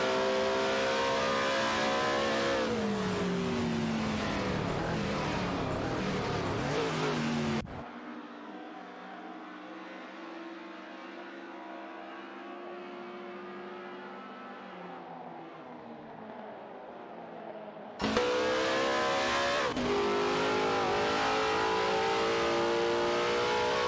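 Racing video game cars, including Scarab F1 and Connaught Type B Dart machines, roar at high revs with rising and falling gear changes, loud and steady, dropping to a quieter droning stretch midway before the full engine howl returns.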